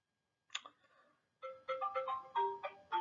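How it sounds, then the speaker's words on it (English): A mobile phone ringtone chimes in a quiet room, opening with a short bright burst followed by a series of rising and falling electronic tones repeating in quick succession. "My phone is ringing."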